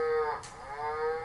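A toy cow on a VTech sit-to-stand learning walker plays a short electronic moo, close and clear, a single tonal call lasting about a second with no voices.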